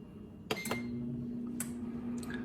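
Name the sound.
air fryer starting at 370 degrees, 15-minute timer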